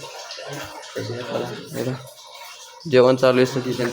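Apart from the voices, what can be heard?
water running for a bath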